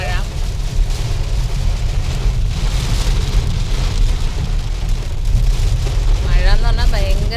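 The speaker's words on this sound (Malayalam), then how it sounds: "മഴ എന്ന് പറഞ്ഞാൽ ഭയങ്കര മഴ." Heavy rain pours down in Karnataka near Abbi Falls, a dense steady hiss of falling water throughout, with a voice briefly heard near the end.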